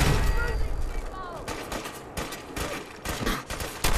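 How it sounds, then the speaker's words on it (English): Gunfire in the video game Fallout 4 breaks out in loud, rapid bursts of repeated shots across the clip, with voices talking over the combat. "The fuck did you get shot with?"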